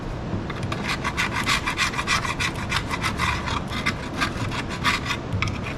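A carbide-edged gasket scraper scraping old gasket material off a Pontiac 400 engine, with rapid repeated rasping strokes in an even rhythm, close and fairly loud, with no talking.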